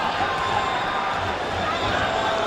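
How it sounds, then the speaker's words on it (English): Spectators at a professional boxing match between Kostya Tszyu and Julio Cesar Chavez cheer after round one, a steady roar of crowd noise, fairly loud and continuous throughout. "The crowd certainly seemed happy with the results from round one."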